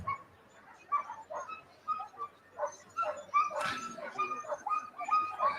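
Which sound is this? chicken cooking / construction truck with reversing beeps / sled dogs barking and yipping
sled dogs barking and yipping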